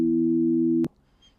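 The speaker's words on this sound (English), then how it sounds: "In this case, it is a group of sine waves forming a chord." Steady chord of pure sine tones, clean and undistorted, held for under a second before cutting off abruptly; electronic and smooth with no other sounds.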